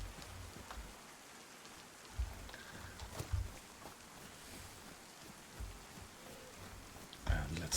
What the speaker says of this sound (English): Yeah, it's bucketing down